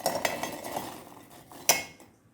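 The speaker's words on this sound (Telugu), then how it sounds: "ఇప్పుడు ఈ జార్లోకి బాయిల్ చేసుకున్న పీస్ బఠానీలని వేసేసుకుందాము" Boiled peas tipped into a steel grinder jar, a short run of light clattering taps followed by one sharper metallic clink near the end, fairly close and alone without talk.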